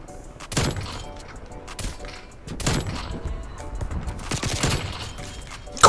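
A Barrett sniper rifle in Call of Duty Cold War fires in loud, sharp cracks, three big shots spaced a couple of seconds apart, each trailing off into a booming echo.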